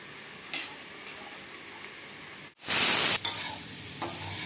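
Sliced bitter gourd and onion frying in a pan hiss steadily, with a few brief stirring scrapes and one loud burst of sizzle in the middle, no voices.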